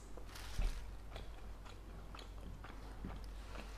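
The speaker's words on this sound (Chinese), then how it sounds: "但是今天是我第一次吃这个烤冷面" Someone eats grilled cold noodles (kaolengmian) at a late-night meal, with soft, close bites and chewing that repeat irregularly and stay quiet throughout.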